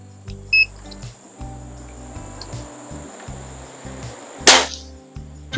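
A Benjamin Sterling HR81 all-steel-and-wood air rifle fires a single shot, a sharp close crack followed by a brief ring, set against a quiet room with faint low background hum.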